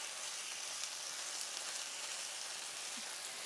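Chicken breasts sizzle steadily in a hot pan, a dense, even frying hiss that stays constant and close throughout, with no talking over it.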